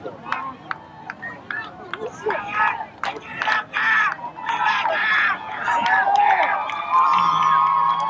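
A home crowd at a 1997 Colt League World Series baseball game in Greensboro cheers and shouts in bursts, swelling toward the end, with commentators talking over it.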